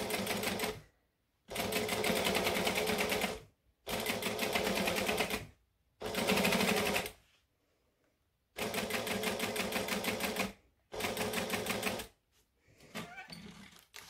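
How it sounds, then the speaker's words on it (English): A sewing machine stitches a backpack seam in several loud, close bursts of rapid mechanical chatter, each lasting a couple of seconds, separated by short pauses and ending with quieter handling sounds. "And then we're going to stitch 1/8 of an inch up the other side."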